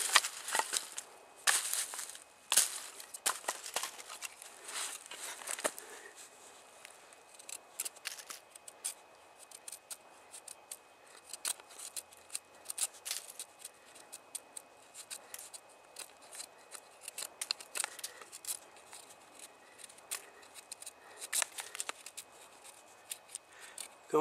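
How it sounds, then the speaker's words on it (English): A knife carves curls from wet wood for a fuzzy stick, making repeated sharp scraping, shaving strokes up close in irregular bursts with short pauses between them. "trying to make a fuzzy stick out of it is a lot more difficult than some of that drier wood"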